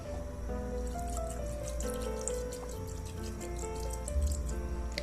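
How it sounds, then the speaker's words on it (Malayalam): Water trickles and splashes steadily into a pot of mutton on a gas stove, fairly quiet, over a low background hum with no talking. "ഒരു ലേശം വെള്ളം ഒഴിച്ച് മട്ടനെ വേവിച്ചെടുക്കാം"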